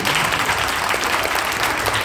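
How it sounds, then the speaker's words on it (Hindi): Dense, loud audience clapping at a Sanskrit conference, a steady unbroken wash of many hands filling the whole moment. "जोर से ताली बजाइए"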